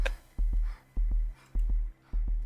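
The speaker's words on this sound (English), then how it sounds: "I don't know if you guys can hear it, but her heartbeat and breathing is like going in the background." Heartbeat and breathing in a deep-sea horror video game: a low double thump repeats steadily about every half second, with soft breath noise between beats, faint in the background with no talk.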